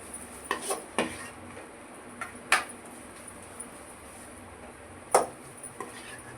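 Ginger garlic paste being sautéed in a pan for dried-fish thokku, with a metal spoon giving sparse, sharp clinks and scrapes against the pan over a quiet, faintly hissing background.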